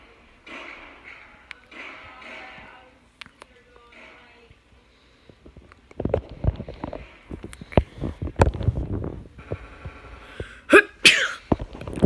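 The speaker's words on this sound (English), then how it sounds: "Sorry, I sneezed." A single loud sneeze bursts out near the microphone while playing Roblox Zombie Rush, amid muffled game sounds, thumps and clicks, with quieter background noise before it.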